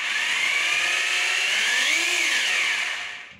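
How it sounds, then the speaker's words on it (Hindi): An Ingco RGH9028 rotary hammer runs in plain drill mode with a steady high-pitched motor whine, briefly rising in pitch near the end and then winding down, close and alone. "ये प्लेन ड्रिल पे चल रही है, इट मीन्स आवाज़ इसकी हल्की है"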